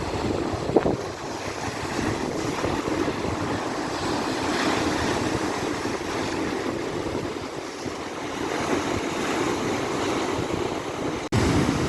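Black Sea surf washing onto the Odesa shore under a grey, overcast sky, a steady broadband rush of waves blended with gusting wind buffeting the microphone throughout, with no voices.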